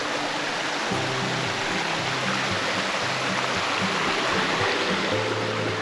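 A river flowing beside a campground at Mount Rainier, Washington, giving a loud, steady, close rushing wash of water that fills the whole stretch without letup, with a faint low hum beneath it and no talking.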